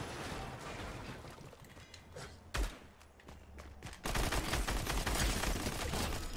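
Rapid SMG gunfire in the Fortnite video game, bursts of game shots dense and continuous, loudest in a sustained stretch near the end with a thump midway.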